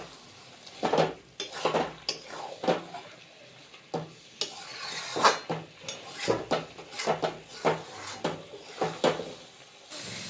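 Masala spices being stir-fried for chicken in a pot, with repeated metal scraping and clanking of a ladle against the pot in an irregular rhythm, close and fairly loud, with a faint sizzle underneath.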